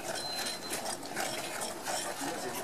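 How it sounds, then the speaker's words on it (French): A fork stirs flour with boiling water in a bowl, giving a quiet, continuous scraping and clicking at a brisk, even pace. "on la met directement sur la farine et on mélange avec la fourchette"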